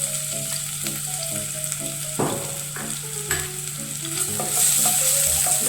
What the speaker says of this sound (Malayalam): ചൂടായ നെയ്യിലേക്ക് ഇഞ്ചി വെളുത്തുള്ളി പേസ്റ്റ്,